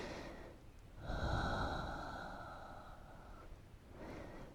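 Slow, deep breath during a yoga relaxation pose, a long airy exhale swelling then fading over several seconds, close and soft, with a fainter breath returning at the end.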